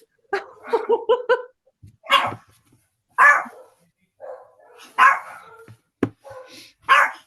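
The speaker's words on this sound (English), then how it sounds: "that's my dog" A dog barks repeatedly indoors during an online call, several sharp close barks and yips in irregular bursts with no talk over them.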